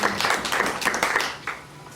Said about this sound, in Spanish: Den un aplauso al Señor, porque Él transforma nuestras vidas.